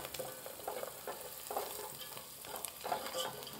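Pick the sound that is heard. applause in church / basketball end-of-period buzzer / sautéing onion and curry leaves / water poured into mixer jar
sautéing onion and curry leaves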